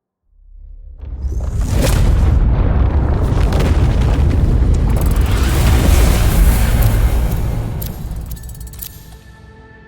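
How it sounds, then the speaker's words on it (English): A huge, loud explosion in the video game The Entropy Centre: a deep rumbling boom that swells quickly and holds for several seconds before slowly fading, with no talk over it. "Kaboom!"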